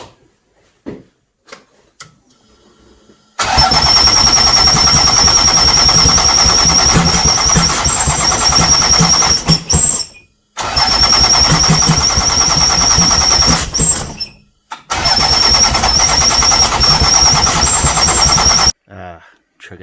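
A turbo V6 Toyota MR2 engine cranks and starts, then runs loud and steady, cutting out twice and restarting, with a high whine over the rumble; a voice speaks faintly before it fires.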